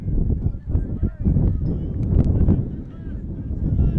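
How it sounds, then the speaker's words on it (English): Strong wind gusts buffet the microphone at an outdoor college baseball game, a steady loud rumbling roar that swells and dips across the few seconds, with a voice faintly underneath. "Wind continues to blow in from left field."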